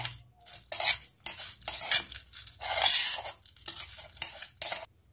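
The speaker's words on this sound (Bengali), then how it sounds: "এবার ভালো করে মিক্স করে নেব।" Orange segments being mixed with sugar, salt, chilli powder and chaat masala, giving a close series of irregular clinks and scrapes of a utensil against a bowl, with short pauses between strokes.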